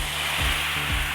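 Tomatoes frying in a pan with a splash of water added, a steady broad sizzle and hiss with faint stirring scrapes, close and continuous, no voices.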